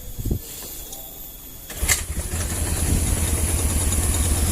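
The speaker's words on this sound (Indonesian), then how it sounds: "Di kontak on, kita nyalakan motornya." A Honda Vario 110 scooter with an electrical fault cranks after a few clicks and settles into a steady, close idle hum with a faint hiss above it, and no talking.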